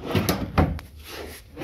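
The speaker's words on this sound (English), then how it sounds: "Nothing in the drawers." Drawers in a hotel room in Bay Saint Louis, Mississippi slide open and shut, giving a few close wooden thumps and clunks in quick succession with a brief scrape, and no one speaks.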